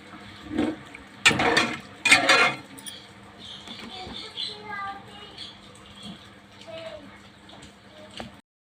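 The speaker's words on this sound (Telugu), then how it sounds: "ముక్కలు ములిగిలా నీళ్ళు పోసుకోవాలండి" Water is poured into a pan of fish pieces for a tamarind fish curry, landing in two loud splashing gushes early on, then a quieter bubbling and trickling, with a voice faintly present at times.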